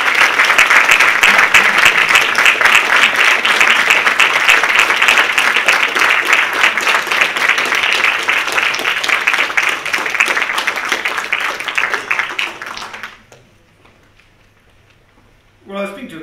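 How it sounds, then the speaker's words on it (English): Audience applause at an evening short-talks event, honoring a pro-life society's work: dense, loud, sustained clapping that continues for about thirteen seconds, then stops abruptly into near silence with a brief sound at the very end. "And I think we owe them a round of applause."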